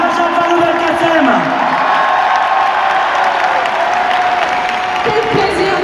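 Audience applause at a French left-wing presidential rally in Paris in 2017 welcoming the Minister of National Education, a steady dense wash of clapping and cheers filling the whole stretch, with crowd voices mixed in.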